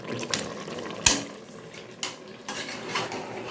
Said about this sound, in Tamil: இப்போ நம்ம வந்து கிண்டி விட்டுக்கலாம்.